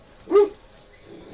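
A dog barks twice indoors, two loud, close woofs about a second apart with quiet between them.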